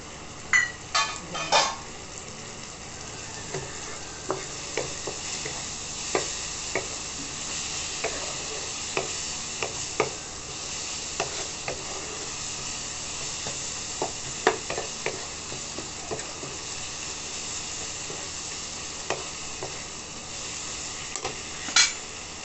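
Steady frying sizzle in a small amount of oil with a soft hiss throughout, broken by periodic scraping clicks of a utensil stirring in the pan.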